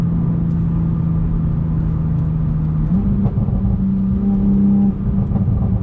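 A car engine revving hard under acceleration while the tyres spin, a loud steady drone from inside the cabin that shifts pitch midway and rises again, with no one talking.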